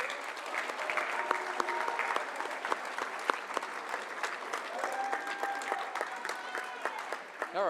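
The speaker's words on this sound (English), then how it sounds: "So let's give them one more round of applause." An awards-ceremony audience applauds straight-A students with sustained, dense clapping that fills the room. Cheers and murmured voices run underneath, and the applause stays steady before lifting slightly at the end.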